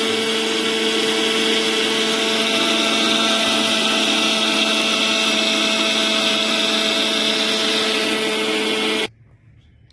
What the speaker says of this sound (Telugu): ఇలా మిక్సీ పట్టుకోవాలి.